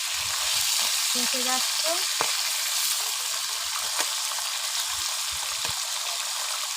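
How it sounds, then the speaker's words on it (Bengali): Live tilapia fish fry in a pan of hot oil with a steady, loud, crackling sizzle and occasional sharp pops, while a voice speaks briefly over it. "দেখুন কিরকম ভাজা হচ্ছে।"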